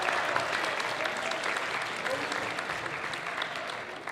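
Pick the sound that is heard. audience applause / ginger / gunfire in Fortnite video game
audience applause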